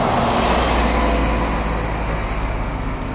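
Birmingham city buses and other vehicles pass along a busy street, producing a steady, loud roar of engines and road noise with no pauses.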